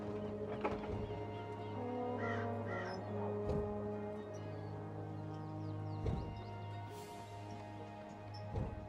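In the video game Dreamfall Chapters, a crow caws a few times over a steady, low, droning ambient background, with scattered knocks and rustles.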